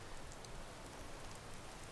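Rain falls in the game Skyrim as a soft, constant wash of pattering drops, faint and even throughout, with no speech.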